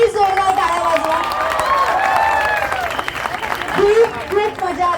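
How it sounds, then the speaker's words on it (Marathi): A crowd at a jewellery showroom opening applauds the Shivrudra drum troupe. Scattered clapping and cheering rise and fall under a voice speaking over it, swelling again near the end. "एकदा प्लीज शिवरुद्रा पथक यांच्यासाठी पण एकदा प्लीज जोरदार टाळ्या वाजवा"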